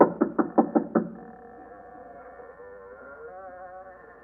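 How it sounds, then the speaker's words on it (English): Five quick, loud raps on a door ring out in a 1947 episode of the radio drama The Shadow, followed by a sustained, quieter musical tone. "I heard them knock on my door."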